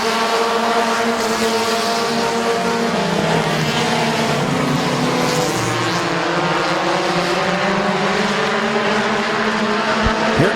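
Race cars roar around Midvale Speedway, several engines droning together in a loud, sustained whine that rises and falls as they pass and shift, with no talk over the noise.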